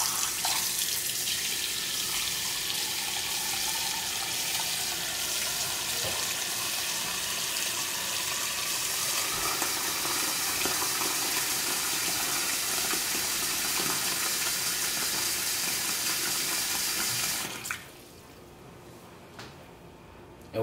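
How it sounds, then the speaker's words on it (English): Cold tap water runs steadily into a kitchen sink to soak lemon-treated oxtails, a loud, continuous close rush that stops abruptly near the end, leaving quiet room tone. "Now we're gonna just run some cold water."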